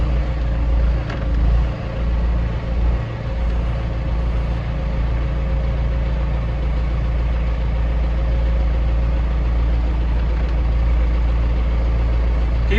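Farm vehicle pulling soil-aerating equipment across a field, a steady loud low engine drone with a constant rumble that holds throughout, close to the microphone, with no talking.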